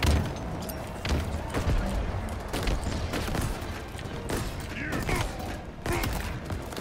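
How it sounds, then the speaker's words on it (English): Gunfire in the Halo Infinite campaign: repeated sharp bursts of shots with metallic mechanical clanks, fairly loud and continuous, mixed with other game noise. "I keep hearing, like, gunshots behind me."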